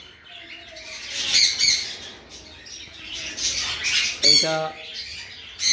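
A pair of blue-crowned conure parrots for sale lets out loud, harsh squawks in repeated bursts, close by, with a brief word spoken amid the calls.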